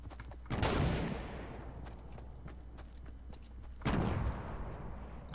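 Gunfire in an online multiplayer shooter game, heard as two loud sharp shots or bursts about three seconds apart, each with a long decaying echo, over a steady low background rumble.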